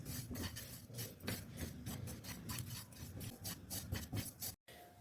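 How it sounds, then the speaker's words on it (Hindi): Fifty grams of sesame seeds dry roasting in a hot kadai over the flame, giving a steady dry rasping and scraping rustle with repeated stirring strokes, close and fairly loud, ending in a brief silence. "ये जो मैंने तिल रखे थे 50 ग्राम, इनको भी मैं ऐसे ही थोड़े से भून लूँगी 1 मिनट तक"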